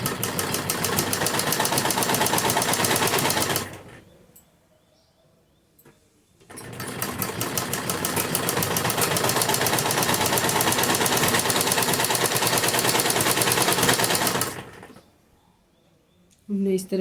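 An electric sewing machine stitching along the double-folded edge of a golden frill strip for a kurti, a loud, steady rapid whirring in two long runs separated by a few seconds of near silence.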